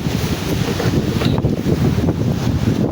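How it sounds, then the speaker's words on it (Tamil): Hard storm wind roars across open ground near a goat shelter, buffeting the microphone with a loud, continuous rush that surges in gusts, with no speech. "எப்படி அடிக்கிட்டு பாருங்க புயல்"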